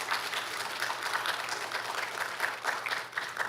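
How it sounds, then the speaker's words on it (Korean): A church congregation bursts into sustained applause, a dense, even patter of many hands clapping that fills the room. "여러분 박수 한번 쳐주세요"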